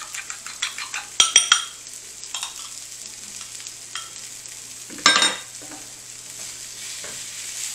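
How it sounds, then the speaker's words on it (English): Eggs seasoned with kosher salt and black pepper are whisked in a bowl, and a cluster of sharp utensil clinks against the dish rings over a faint sizzle from the pan. "Give that a good stir."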